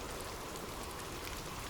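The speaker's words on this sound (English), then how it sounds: "The Stockholm rain hammered against the window of Lucas Eklund's cramped apartment" Rain on a Stockholm apartment window makes a steady, dense patter and hiss, continuous and even throughout with no voices.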